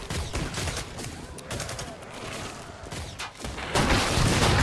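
Rapid gunfire from the video game Killing Floor 2 during a multiplayer match on the Biotics Lab map, with dense overlapping shots and bursts running continuously, swelling louder toward the end.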